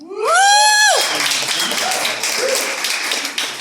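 Comedy club audience at a stand-up set at The Stone House breaks into brief applause and clapping after a voice trails off, the clapping fading over a few seconds.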